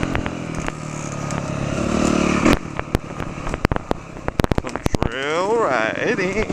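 A dirt bike rides a hill trail in Hawaii, its engine droning and rising before giving way to scattered clatter and knocks from the rough ground, with voices and whoops heard over it.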